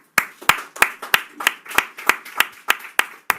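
Steady, evenly spaced hand claps ring out alone at a ceremony inaugurating a Ronald McDonald House, about a dozen sharp close claps in a regular rhythm with no voices over them.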